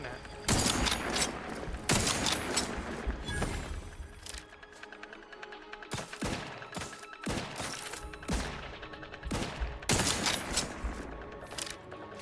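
Rapid bursts of gunfire from the video game The Outer Worlds, loud and close, arriving in repeated volleys with brief gaps between them over game sound.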